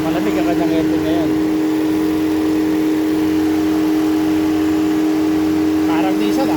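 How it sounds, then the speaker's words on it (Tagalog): A Nissan Sunny radiator fan blower fitted into a Changan Alsvin runs with a loud, steady whirring hum and a constant tonal drone, close up, while people talk over it. "Tumitain nyo ng blower ng Nissan Sunny."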